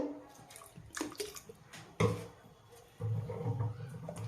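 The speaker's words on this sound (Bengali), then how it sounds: "সামান্য মিক্সি ধোয়া জলটাও একটু দিয়ে দিলাম" Rinse water from a mixer jar poured into chicken coated in a mustard, poppy seed, cashew and green chili paste: a close, splashy trickle with a louder gush midway and a steadier pour toward the end.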